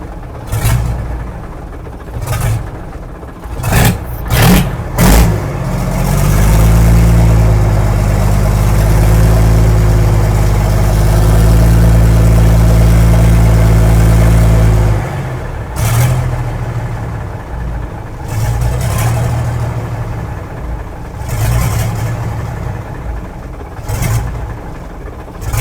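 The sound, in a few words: Mack B61 truck diesel engine idling after startup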